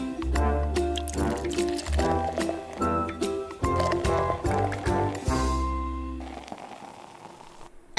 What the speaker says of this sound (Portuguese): Eu coloco leite.